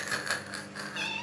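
A pet cat meows softly nearby, a short whiny call with a slightly rising tone near the end, heard alone without talk.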